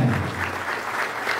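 Applause from an audience at a São Paulo state government ceremony announcing airport investments, a dense, even wash of many hands clapping at once, fairly close and loud for the whole moment, with no voices over it.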